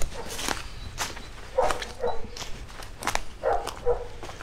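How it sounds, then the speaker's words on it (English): Dogs bark at a farmyard in Wales, a few sharp barks in short bursts standing out moderately from a steady outdoor background. "them friggin' dogs are barking all day"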